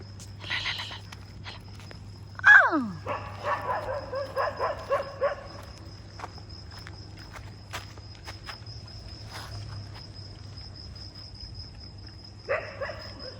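Dogs being fed outdoors bark in short bursts, with a longer cluster of barks early on and another near the end, over a constant low hum and steady insect chirring.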